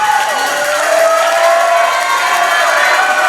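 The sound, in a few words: crowd cheering at Premier Arena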